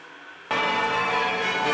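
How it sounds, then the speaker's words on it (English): Church bells ring out loud and continuous after a brief quiet start, a dense, sustained peal with rich overlapping tones. "You hear those bells, Lawrence?"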